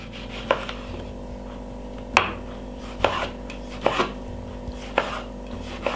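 A large chunky tomato being chopped for a grape salad: about six crisp knife strikes against a board at irregular intervals, close and clear, with a quiet background hum between them.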